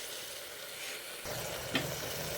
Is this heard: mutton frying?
yes